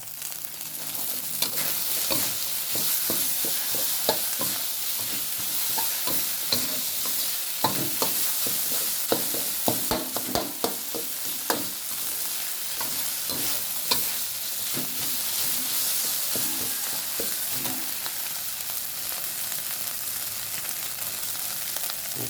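Field rat is stir-fried in a hot pan with chopped kaffir lime leaves and other greens, sizzling loudly and steadily for a long stretch while a utensil scrapes and stirs in repeated bursts.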